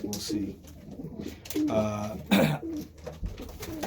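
Ludo hen and cocks cooing in a pigeon breeding loft during breeding season, soft low coos recurring under close talk from a man, with one louder burst in the middle.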